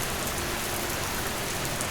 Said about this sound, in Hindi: अगर ऐसे ही बरसात होती रही